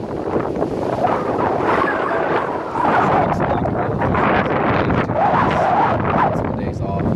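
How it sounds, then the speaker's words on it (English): Strong wind blows across open water ahead of a tropical storm, a steady gusty roar with microphone buffeting and a wash of waves, while someone talks over it. "you can see the wind coming across the water there"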